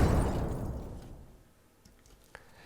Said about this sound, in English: so that is just an explosion sound